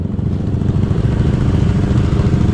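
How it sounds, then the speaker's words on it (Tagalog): Many motorcycles pass along a road in a continuous loud, rough engine rumble with a clattering texture, steady throughout and free of voices. "Bakit ang daming motor?"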